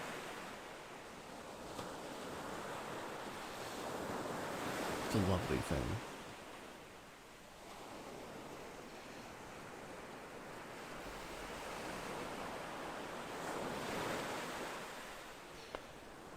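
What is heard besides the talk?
ocean waves washing back and forth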